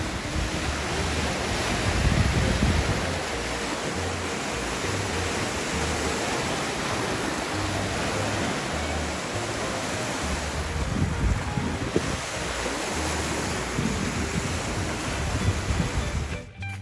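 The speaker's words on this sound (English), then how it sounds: "Now we'll take one last look at the waves, which were much higher the first night we were there" Waves breaking on the Lake Ontario shoreline near the Salmon River delta in spring, a steady broadband surf roar with swelling surges and wind rumble, loud and continuous with no talk.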